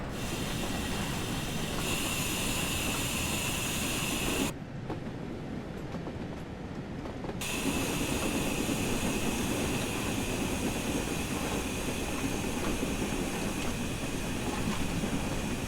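A train in Train Sim World 3 rolls along with a steady, continuous rumble and hiss throughout, briefly dipping quieter for a few seconds before the running noise returns at full level.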